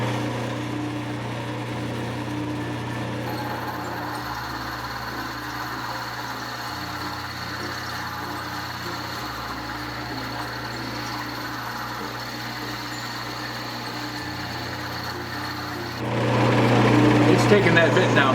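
A Delta lathe turns a diamond wheel at about 1,500 RPM, grinding down a carbide lathe bit. The result is a steady hum and whir with a faint grinding rasp, running continuously and rising louder near the end.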